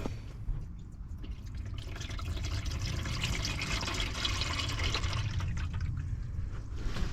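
Engine oil draining from a 2007 Nissan Elgrand into a pan, a steady liquid pour and drip that builds to a continuous splashing stream, close and unaccompanied by talk.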